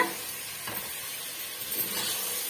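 Ripe chopped medium tomatoes hit sizzling ginger garlic paste in a pan while cooking mutton kulambu, giving a steady, close hiss and sizzle with faint stirring and no talk.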